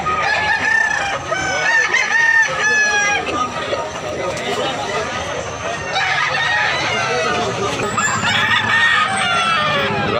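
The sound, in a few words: rooster crowing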